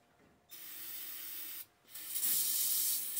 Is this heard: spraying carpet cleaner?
yes